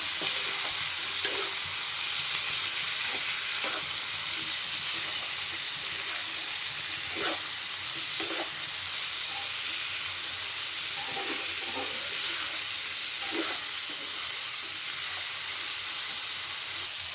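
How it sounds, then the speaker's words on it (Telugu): Ivy gourd (dondakaya) pieces frying in a pan, with a steady broadband sizzle running throughout and intermittent scraping clicks from stirring, close and with no voices. "ఇందులో దొండకాయ ముక్కలు వేసుకోవాలి. బాగా కలపాలి."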